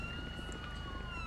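A police siren from a modded LSPDFR patrol in GTA 5 wails in steady sustained tones, loud and continuous throughout with a low engine-like rumble beneath.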